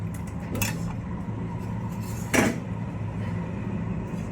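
Peanuts are stirred while dry-roasting in a pan in a home kitchen, giving soft, sparse rattles and a couple of brighter clinks against metal over a quiet low hum.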